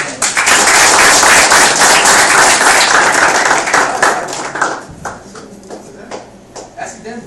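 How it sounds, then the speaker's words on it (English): A room full of people claps loudly and densely at a technology talk, the applause holding strong for several seconds before tapering off into scattered claps and quieter room noise. "Clap your hands."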